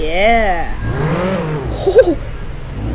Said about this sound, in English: this thing really sounds like a Bugatti Chiron